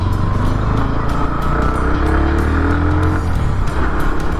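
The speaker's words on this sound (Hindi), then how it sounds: "बाइक को अगर रैव कर रहा हूँ तो बाइक रेस्पॉन्स फटाक से दे रही है" A Bajaj Pulsar NS 160 motorcycle engine revving and accelerating on the road, a loud continuous close-up drone with rising and falling pitch sweeps as the throttle opens.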